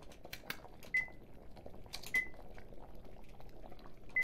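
Water boils over flames in a video game, a faint steady bubbling and hiss broken by three short, bright chime-like tones spaced evenly apart.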